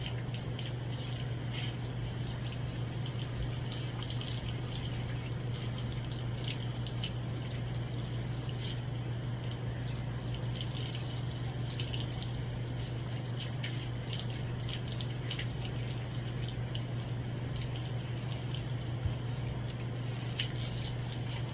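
Steady running water rinses a large dog at grooming time, a continuous close splashing wash with a low hum underneath and no pauses.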